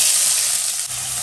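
Loud, steady sizzling of chopped onions frying in hot oil until brown, close and continuous with a bright hiss throughout.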